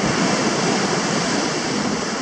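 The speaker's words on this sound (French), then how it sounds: "C'est pour ça que les vagues, même si elles paraissent grosses, et ben elles n'arrivent pas jusqu'à mes pieds là." Waves break on a steeply sloping beach on the Morbihan coast, the surf and backwash forming a steady, loud, close roar with no pauses and no voices.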